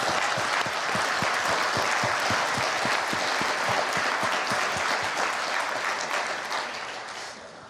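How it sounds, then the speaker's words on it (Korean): Sustained applause from a large audience at a national prayer breakfast, dense steady clapping with some sharper individual claps, holding strong before tapering off toward the end. "다시 한번 뜨거운 박수 부탁드립니다"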